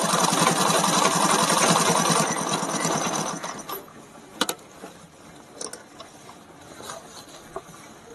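Zigzag sewing machine stitching a buttonhole, a loud dense motor whir for about three seconds, then stopping into quiet with a few faint clicks and handling knocks.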